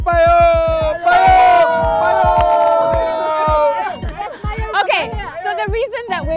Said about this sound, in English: we've been chanting and cheering in there